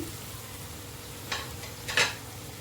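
Chopped potatoes tip into a pan of softened tomato for a Maharashtrian batata bhaji and get stirred, giving two short scraping bursts over a low, steady sizzle with no talking.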